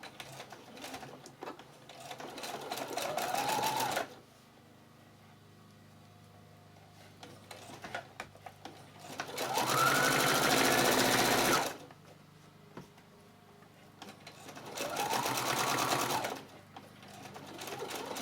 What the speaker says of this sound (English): we're going to see what we can sew here